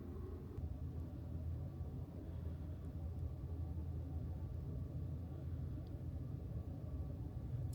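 An Amtrak Southwest Chief passenger train rolling out of Kingman, Arizona, heard as a steady low rumble with a faint hum from inside the car, even and unbroken throughout.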